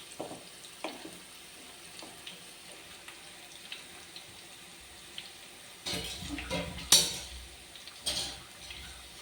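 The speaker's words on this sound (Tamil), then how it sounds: "இப்படியே வேகட்டும் ஒரு ரெண்டு நிமிஷம் வேகட்டும்" Shallot pakoda frying in hot oil, a steady soft sizzle and bubbling with a few louder crackling bursts toward the end, close and without talk.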